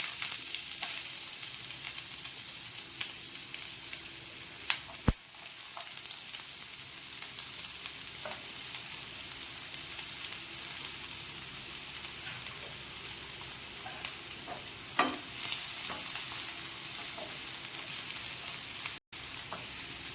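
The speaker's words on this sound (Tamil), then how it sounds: "பேனில் முதல்ல வெங்காயம் எண்ணெய் ஊற்றி வச்சு வெங்காயம் போட்டுக்கலாம்" Onions sautéing in hot oil in a pan for coriander chutney, a steady close sizzle running the whole time with occasional sharp clicks of a utensil against the pan and no talking.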